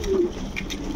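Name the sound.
pigeons cooing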